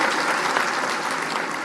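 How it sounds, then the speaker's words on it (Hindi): Crowd applause at a political rally, a continuous wash of many hands clapping that holds steady throughout, close and fairly loud. "जरा बोल रहे हो ताली वाली बजाओ भाई"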